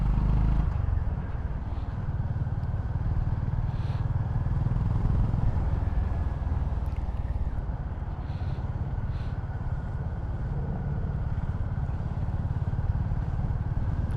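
A 2025 Honda GB350S 350cc single-cylinder motorcycle on the road, its low engine thud steady and continuous under rushing wind noise while riding, with no talk.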